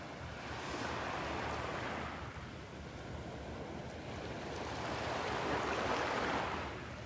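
Ocean waves surge and wash onto the beach at Delnor-Wiggins in two long swells of rushing water, mixed with steady wind buffeting the microphone.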